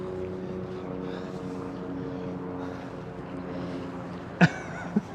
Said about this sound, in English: news helicopters are swooping over the city now